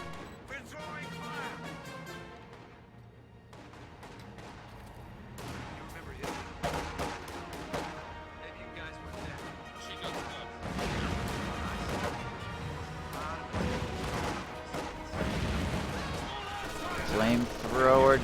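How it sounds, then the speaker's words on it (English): Machine gun fire and a flamethrower burst erupt in a competitive multiplayer video game match, with dense overlapping shots and bursts building louder toward the end, all under excited, continuous commentary. "Nice flame burst there!"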